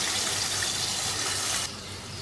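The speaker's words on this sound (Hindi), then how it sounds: "अब इसमें शामिल कर देंगे आधी प्याली पानी की।" Half a cup of water pours into a mutton kofta curry base mixed with yogurt, a steady close splashing gush that cuts off abruptly near the end.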